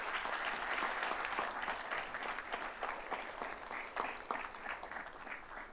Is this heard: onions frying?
no